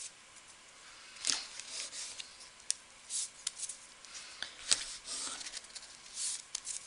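Double-sided tape peeled and pressed onto a scrapbooking card background, giving a series of soft, close crackling rips and rubbing scrapes at irregular intervals, with no talking.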